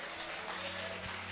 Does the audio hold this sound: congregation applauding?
yes